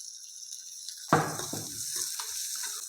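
Finely chopped onion hits a hot pan with cumin and starts frying lightly, a sudden sizzle that settles into a steady soft crackle, close and moderately loud.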